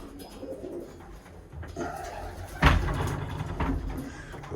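Birmingham Roller pigeons coo softly in a ventilated loft, their low, repeated calls mixing with occasional wooden knocks and shuffling.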